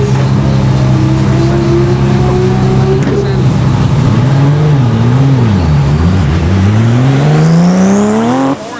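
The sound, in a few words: BMW drag car accelerating during a speed run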